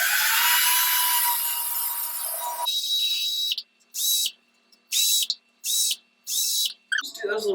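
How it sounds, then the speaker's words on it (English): A drill bores small pinholes in a container held over a kitchen sink, the high whine coming in about five short bursts separated by brief silences, after a stretch of louder broadband noise. "I'm going to bring this over here and drill it over the sink."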